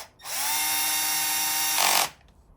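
A power drill on its lowest clutch setting runs bolts into a Suzuki V-Strom 650 clutch cover, a close steady whine of almost two seconds that rises in pitch near the end before cutting off.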